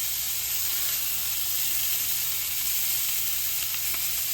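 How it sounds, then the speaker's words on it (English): Meatballs searing in a hot pan give a steady, dense sizzle with constant hiss and no break, close and fairly loud, with no talking over it. "Now that we got our meatballs seared off on all sides"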